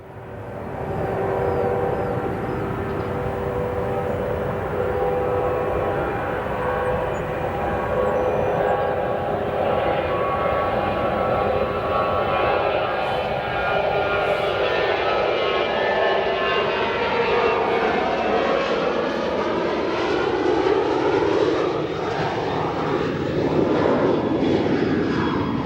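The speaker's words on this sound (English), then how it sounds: "We hear another aircraft departing, this here a 737-800 headed to Buffalo" Boeing 737-800 departing O'Hare Airport: a loud, sustained engine roar that holds for the whole stretch, with a rising, whining pitch sweep as the jet climbs away, no voices.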